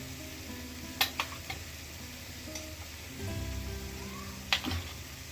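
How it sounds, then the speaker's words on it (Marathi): Turmeric and Malvani masala sauté in a hot pan, a soft steady sizzle with occasional light clicks of stirring, faint and close throughout. "आणि मीठ पण आपल्या अंदाजाने घालायचं आणि हे आता व्यवस्थित परतून घ्यायचं।"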